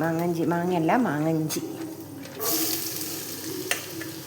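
Mango pieces for pickle fry in oil in a pan, a steady hiss rising after a brief spoken voice and continuing close and moderately loud.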